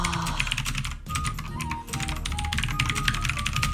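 Fast, continuous typing on a computer keyboard, with dense key clicks that carry on almost without pause and are heard alone at close range, apart from a brief break near the first second.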